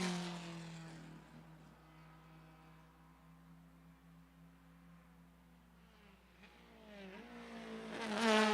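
A white Alfa Romeo race car passes at Lime Rock Park, its engine note rising as it approaches, fading as it goes away, then swelling again as another car nears, with a faint tire sound near the end.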